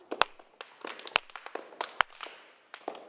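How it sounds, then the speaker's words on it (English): Sharp, open-handed claps ring out in an irregular scatter of about a dozen strikes, several loud and crisp, others softer, heard alone with no talking. "use the really open clap"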